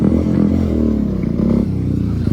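Royal Enfield Meteor 350 motorcycle engine revving during a wheelie attempt, loud and close with a steady rumbling throb and some clatter, rising and falling slightly without speech.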